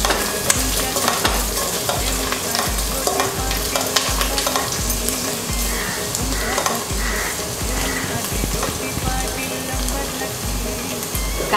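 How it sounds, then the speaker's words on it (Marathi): Onion and masala frying in oil for dal mundi, a loud continuous sizzle with rhythmic stirring and scraping strokes repeating about every second, no voices over it. "कांदा चांगला लाल झाल्यावर कसा मसाला पण चांगला शिजतो तेलामध्ये"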